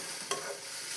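A spoon or spatula stirring radish chutney in a kadai, one short scraping sweep over a faint hiss, with no talking.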